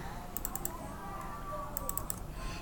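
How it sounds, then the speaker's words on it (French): Quick bursts of keystrokes on a computer keyboard as a compiler command is entered, two short clusters of clicks under a steady low hum with a voice speaking. "Pour compiler un programme C, on tape gcc"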